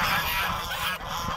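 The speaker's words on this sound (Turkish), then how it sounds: "Ben de böyle kazla yaklaşınca hemen bağırışmaya başlıyorlar." Geese honk loudly and repeatedly while two of them fight, harsh overlapping calls in a near, continuous clamour with brief dips and no speech.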